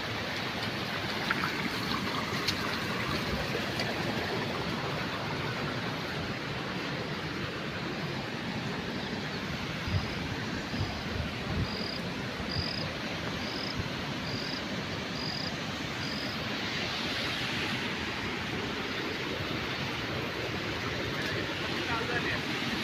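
Floodwater rushes from a burst dam after heavy rain, making a constant broadband roar that holds steady throughout, with faint high chirps over it.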